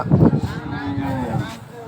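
Cattle low at a busy cattle market, one close, drawn-out moo filling the moment over faint crowd murmur.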